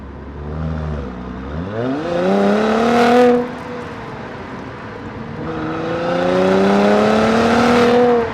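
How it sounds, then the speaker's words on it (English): A 2016 Mercedes-AMG C 43 4MATIC 3.0 engine revs up and down while driving in long rising and falling sweeps, loud and close, with a brief whooshing peak midway and no talking. "I do want to try and get the engine noise across to you"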